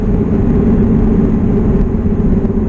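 A Toyota SW20 MR2 rolls along on a cold day, its tires giving a steady, dense low roar mixed with engine rumble, constant and close throughout with no talk.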